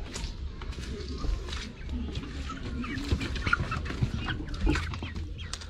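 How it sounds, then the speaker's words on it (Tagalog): Rhode Island chickens at outdoor feeding time, clucking and scratching close by amid rustling and scattered thumps, with a low background rumble. "magpapakain pa ako ng aking mga manok, alagang mga manok na Rhode Island"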